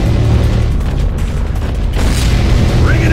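In Unreal Tournament 3, a Darkwalker vehicle is destroyed in a loud, sustained explosion. A heavy low rumble rolls on for several seconds, with a brief bright burst of debris near the end.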